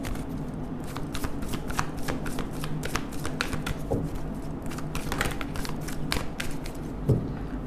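Tarot cards are shuffled and drawn from a deck in a steady run of crisp riffling slaps and flicks, close and fairly loud, continuing with no voice for the whole stretch.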